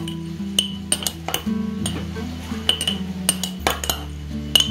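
A spoon stirs bitter gourd pickle in a container, with repeated light clinks and scrapes of metal against the vessel at an irregular rhythm, close up and with no talking.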